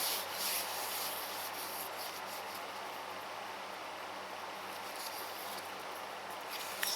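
A small engine cylinder head is lapped on an abrasive surface, giving a continuous, close scrubbing rasp that holds steady without a break.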